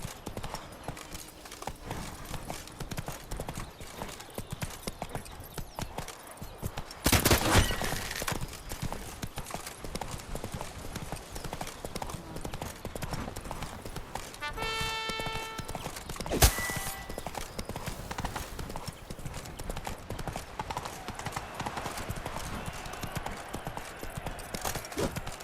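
Roach, the horse in The Witcher 3: Blood and Wine, keeps up a steady hoofbeat rhythm across the whole stretch, with a couple of louder bursts and a brief whinny partway through.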